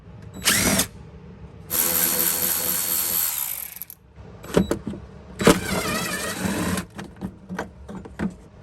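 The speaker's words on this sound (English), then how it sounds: "So we're gonna start zipping these out with my DeWalt impact gun." A DeWalt impact gun removes 12mm bolts from the underside of a Lexus LX470 rear bumper, its motor whirring and rattling in several loud bursts with short pauses between them.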